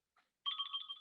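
A phone rings during a community meeting, a faint electronic trill with a brief chirp followed by a steady warbling tone, heard alone without talk.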